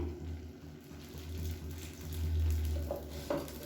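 Sweet jaggery paniyaram batter frying in a mix of ghee and oil over a medium flame, a steady low sizzle and bubble running throughout, with a couple of faint clinks near the end.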